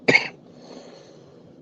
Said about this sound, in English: thank you for the coughing